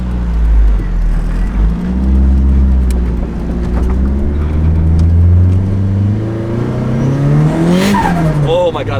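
A turbocharged, built KA-T engine car accelerates hard, its loud droning note climbing and falling in pitch before a sharp rising whine near the end, while people talk over it.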